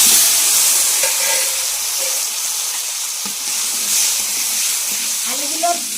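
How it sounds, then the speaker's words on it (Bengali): Potato pieces fry in oil left over from frying rohu fish in a wok, with a steady loud sizzle and hiss and occasional stirring scrapes. A voice speaks faintly underneath. "আলুগুলো লাল লাল করে ভেজে নেব।"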